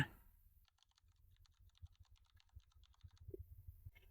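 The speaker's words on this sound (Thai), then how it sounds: "หลังจากที่เราค่ะเลือกเสียงคีย์บอร์ดได้แล้ว จากนั้นลองกดเล่นดูค่ะ" Rapid keyboard typing sound effect from the CapCut app, a quick run of soft, close clicks and taps at an irregular rhythm, faint and without any voices.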